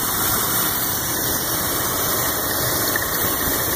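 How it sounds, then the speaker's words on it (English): A 1985 Buick LeSabre engine idling smoothly, a loud, steady, close-up rumble with a constant hum and no variation in speed throughout. "As you can see, it fires right up and idles perfect."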